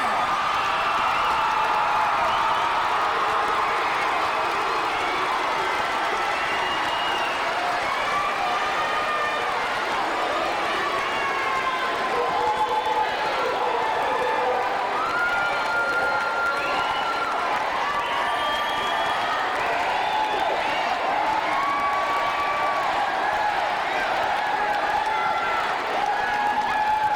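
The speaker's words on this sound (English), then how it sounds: "Let's give the graduates another round of applause." A large audience at a 1997 high school graduation applauds and cheers without pause: dense, steady clapping with scattered whoops and shouts carrying over a loud crowd roar.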